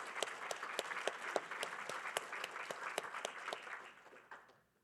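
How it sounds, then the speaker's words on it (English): An audience at a passenger rail summit gives a round of applause: dense, even clapping that carries for several seconds, then thins and fades out. It sounds distant and fairly quiet. "a round of applause for these folks over here"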